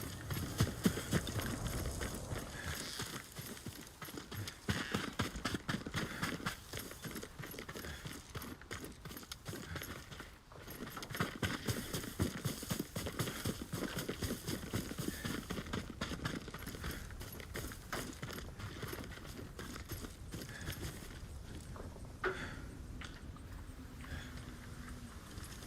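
A horse's hooves clip-clop steadily over ground along a path, a continuous mid-distance rhythm with some rustling, holding level through the stretch with a brief dip partway.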